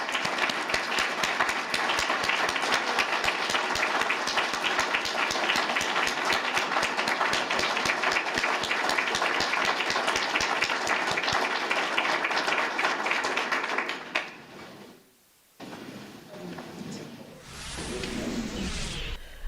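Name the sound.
applause for new chief of police at swearing-in ceremony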